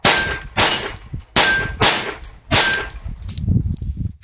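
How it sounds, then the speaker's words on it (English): Sharp gunshots from a Phoenix Arms HP22A .22 LR pistol at an outdoor range, five loud cracks fired at an irregular pace about a second apart, each with a short ringing decay, followed by faint rustling. "we're going to do a little shooting here with the Phoenix HP22A"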